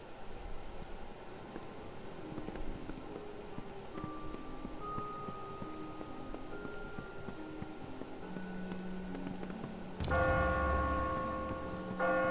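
Church bell ringing in the video game Kingdom of Amalur, sustained tolling tones over a quiet background, with a louder bell strike near the end ringing out clearly.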